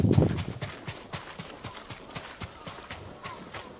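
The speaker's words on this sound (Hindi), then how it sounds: "ये क्या, मेरा घोड़ा इधर क्या कर रहा है?" Hooves of a horse in the Ghost of Tsushima video game clip-clop in a steady, regular walking rhythm, moderately close, with a brief louder rumble at the start and no talk over it.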